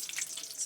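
Cinnamon, dried chilli and bay leaves fry in hot oil, giving a brief, soft crackling sizzle.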